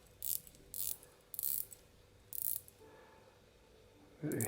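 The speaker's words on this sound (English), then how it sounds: "look at that rotating bezel" A rotating bezel on a GMT wristwatch clicks as it is turned, in short bursts of fine ratcheting clicks separated by pauses, close and quiet, with a small knock at the end.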